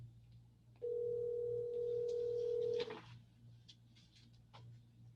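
A telephone rings once with a steady electronic tone lasting about two seconds, over a low constant hum in a quiet room where a teacher runs a small-group math lesson on Zoom.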